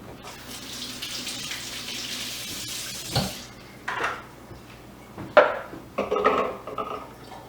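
Tap water runs steadily into a sink while onions and zucchini are rinsed, then stops, followed by close clatters and knocks of vegetables and dishes being handled, with no voices.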